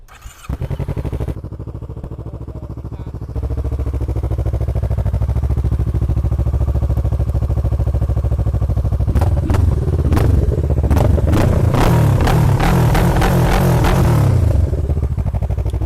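A Kawasaki Z800 or Z650 motorcycle engine idles with a steady low rumble, then from around nine seconds it is blipped through a run of sharp, loud revs. The revs fade back toward idle near the end.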